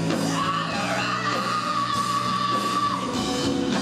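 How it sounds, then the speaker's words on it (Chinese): The singer of a university rock band screams wildly on stage at a rock festival held in a historic hall, a sustained raw yell over loud, dense band noise. "乐团主唱在台上疯狂嘶吼"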